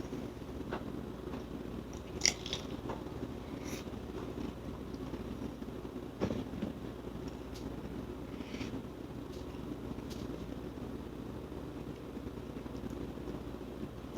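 Someone bites into food dressed with Mad Dog 357 sriracha sauce, with close crunchy bites near the start and middle followed by soft, quiet chewing and no speech.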